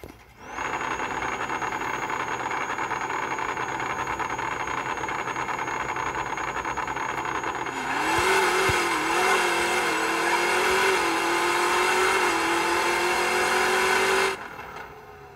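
Boss Mustang no-prep drag car launching down the track, a steady loud high whine that rises into a surging roar partway through, then cuts off abruptly.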